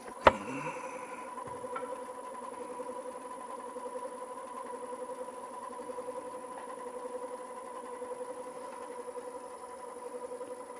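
A Vicmarc oval device turning on a woodworking lathe at about 300 RPM gives a steady mechanical drone with a faint rhythmic pulse, opening with one sharp knock and then running evenly on its own.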